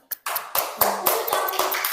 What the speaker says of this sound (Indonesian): tepuk tangan untuk Rene.